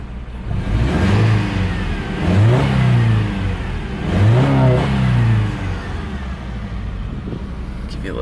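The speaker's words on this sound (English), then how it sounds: "rev the engine a few times for you" The engine of a 2014 Subaru XV Crosstrek is revved three times from idle, each rise swelling and falling back, close and fairly loud, with a person's voice heard faintly alongside.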